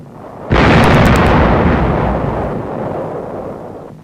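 A heavy naval shell explosion erupts suddenly with a loud, close blast, then a long rumbling decay that fades over several seconds, as recorded in 1945 wartime newsreel footage of the Kerama Islands landings near Okinawa.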